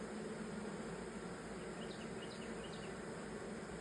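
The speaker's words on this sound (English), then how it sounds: "there's a bee trying to sting my neck. Oh, I hear it buzzing." A bee buzzes close around a beekeeper's neck at a hive, a steady droning hum that stays constant and loud throughout, with no voices.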